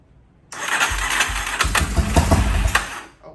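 An old $200 ATV engine cranking with brake cleaner sprayed in the carburetor: a loud, close, ragged churning that sputters and surges unevenly for a few seconds before cutting off.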